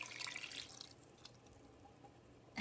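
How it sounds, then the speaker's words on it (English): Water poured into a pot of spinach rice, a brief splashing pour at the start that fades to quiet dripping and faint trickles. "I added the rice and I'm adding some more water."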